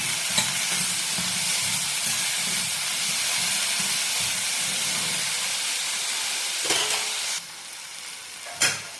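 Brinjal and yellow pumpkin sautéing in a pan for Tirunelveli idi sambar, a steady close sizzle and hiss with occasional stirring scrapes and a couple of sharp clinks near the end.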